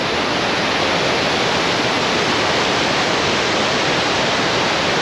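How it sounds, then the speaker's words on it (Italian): Steady, dense roar of Likholefossen waterfall in Norway, a constant broadband rush of falling water with no breaks, loud and close throughout. "Ed ecco a voi le cascate"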